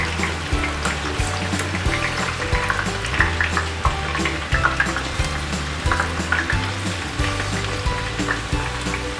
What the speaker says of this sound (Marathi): तेल गरम झाले, आता आपण हा थोडा कांदा टाकून तळून घेऊया।